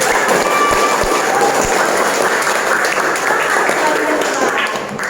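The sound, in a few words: class applause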